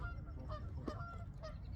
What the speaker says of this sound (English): Oh look, the geese are coming.